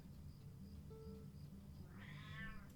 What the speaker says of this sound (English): The howling creature you hear is my cat